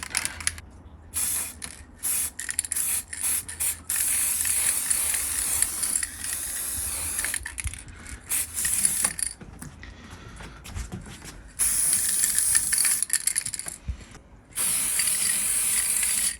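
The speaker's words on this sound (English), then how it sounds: "now I'm gonna spray the golden finishing paint" A spray can hisses golden finishing paint onto a Commodore C64C computer case, coming in several long, steady bursts with short pauses between them, close and fairly loud.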